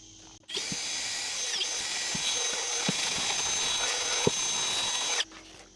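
A power drill pre-drills a hole for a soaped nail, a steady high whine running for about five seconds close up, starting and stopping abruptly.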